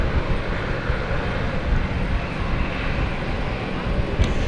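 A small passenger aircraft taxis in to park at London City Airport, its engines giving a loud, close, continuous rumble and whine that stays even throughout.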